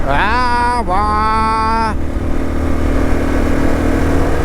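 A motorcycle engine revs up and holds a high whine at about 5,000 rpm and 80 km/h, then settles into a steady, loud drone as the ride continues.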